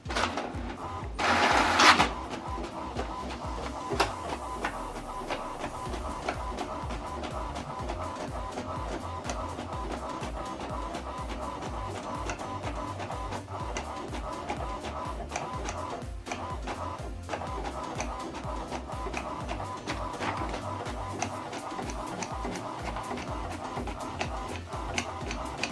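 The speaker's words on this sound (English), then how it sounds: "So this is the paper we printed out." An HP Deskjet 3700 series printer printing a page, a steady mechanical whir with repeated ticking and feed clicks, plus a brief louder paper rustle near the start.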